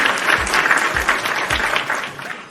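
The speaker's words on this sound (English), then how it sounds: "Round of applause for the PWT universe." Applause sound effect on a wrestling podcast: a crowd claps and cheers in a dense, bright burst that holds for a couple of seconds and then begins to thin out.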